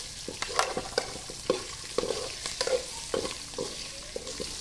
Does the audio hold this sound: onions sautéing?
yes